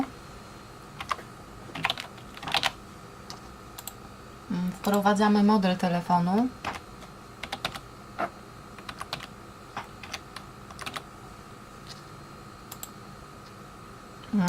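Typing on a computer keyboard while entering a phone's details in forensic software, quick close key clicks in scattered bursts beneath someone speaking Polish, with a short hum-like vocal sound in the middle.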